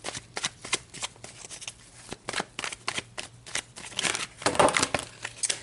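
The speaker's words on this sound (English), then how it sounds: "Let me shuffle up the tarot for you guys." Tarot cards being shuffled by hand in a steady series of crisp riffling bursts and soft flutters, close and fairly quiet, with no talking.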